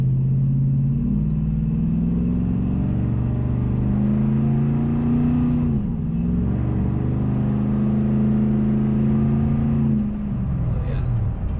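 A Nissan Titan pickup's Flowmaster Super 10 exhaust rumbles deeply and continuously, with the engine note rising and falling as it revs, heard from inside while driving.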